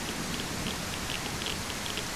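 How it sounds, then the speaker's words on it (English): Steady rain patters down in the survival game SurrounDead, a dense, even hiss of drops on surfaces, soft and continuous with no talk. "Let's go in and get out of the rain"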